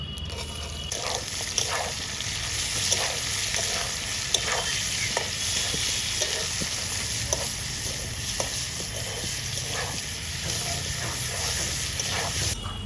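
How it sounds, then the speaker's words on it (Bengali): Chopped onion and green chilli fry in oil with cardamom, cinnamon and cloves, a continuous close sizzle broken by regular scraping stirs of a spatula across the pan. "পেঁয়াজটা তো প্রায় ভাজা ভাজার দিকে হয়ে আসছে"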